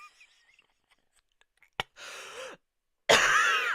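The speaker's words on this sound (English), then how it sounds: "Such a bad cough" After near silence and a faint click, two harsh asthmatic coughs sound close by, the second louder and rougher than the first.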